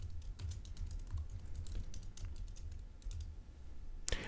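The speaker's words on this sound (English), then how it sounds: "I'm going to go ahead and type in Antec, and I'm going to put in new workstation name." Steady typing on a computer keyboard, a fast, soft run of close keystroke clicks over a faint low hum, ending with one sharper, louder key press.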